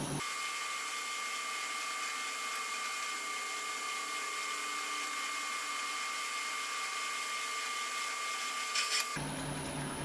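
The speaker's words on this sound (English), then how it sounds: "That's a nice sharp drill." A sharp drill bit, turning at around 600 RPM in a machine, cuts steadily through the steel of a deck jack, giving a continuous whining hum at an even level before cutting off abruptly near the end.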